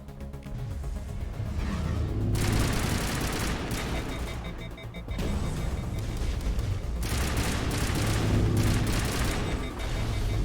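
Explosive rounds fired from a weapon in Mass Effect, heard as dense, loud bursts of rapid gunfire with booming impacts, two sustained volleys separated by a brief lull, with no talking.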